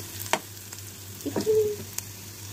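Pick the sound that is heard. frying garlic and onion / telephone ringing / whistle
frying garlic and onion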